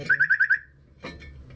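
A car alarm or lock signal gives five quick, evenly spaced high chirps in a burst, fairly close, followed after a pause by a short clunk and faint low background noise in a garage or workshop.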